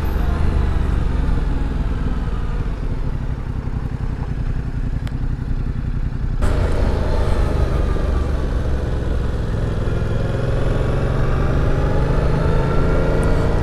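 Yamaha MT-07 700 cc A2 motorcycle engine running steadily while riding on the road, a continuous loud low drone with a slight shift in tone midway and wind noise throughout.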